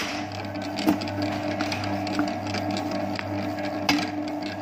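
A stand mixer kneads bread dough for choconut coffee bread at speed 2, giving a steady low motor hum with a constant mechanical whir and a few faint knocks, moderately close and alone without talk.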